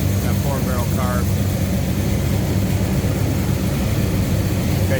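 A 1970 Pontiac GTO V8 with aluminum heads, aluminum intake manifold and a 4-barrel carb idles steadily and loudly, a continuous low rumble with faint chirps, while someone talks over it.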